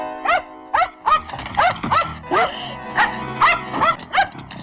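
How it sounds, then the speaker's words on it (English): A small, high-strung dog barks repeatedly in quick, evenly spaced yaps with a few whimpering yips, loud and close, alone without talk. "this dog is nuts"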